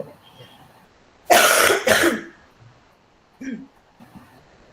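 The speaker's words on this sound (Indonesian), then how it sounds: "Batuk." A person in a classroom gives two sharp, close coughs in quick succession, followed by a brief throat clear a moment later, with quiet room tone in between.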